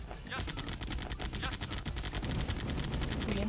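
Gunfire in the PSX game Command & Conquer GDI: Special Operations as units shoot up enemy buggies, a dense, continuous crackle of rapid shots with dull impacts running throughout, close and steady, with faint talk underneath.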